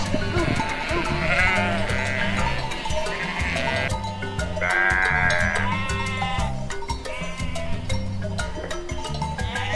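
Sheep bleat repeatedly over cheerful background music, a series of loud, wavering calls spaced through the stretch, some long and drawn out.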